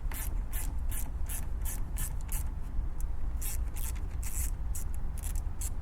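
A ratchet wrench works loose the battery terminal nut on a 2015 Chevy Silverado, giving quick bursts of metallic clicking in uneven runs over a steady low background hum, close and fairly loud, with no talking.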